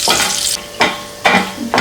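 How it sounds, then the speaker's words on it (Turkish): Food sizzles in hot oil with a crackling hiss, broken up by a few scraping stirs of a utensil in the pan. "O yüzden bununla kızartıyoruz."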